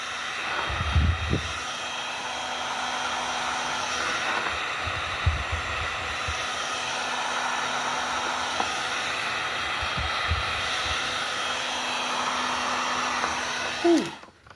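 A hot air blower runs steadily for several seconds while shrinking heat-shrink tubing onto an aux cord, a continuous close whooshing drone with a few faint handling knocks, cutting off abruptly near the end.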